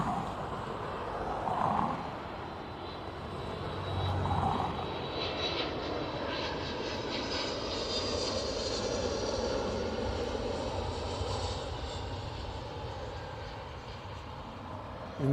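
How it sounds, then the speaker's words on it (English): Jet aircraft engines roar steadily as a plane rolls down the runway for takeoff at Dublin Airport, a broad, sustained rumble heard from a distance, swelling slightly and holding for the whole stretch with no talk. "Mark Carney's aircraft is rolling"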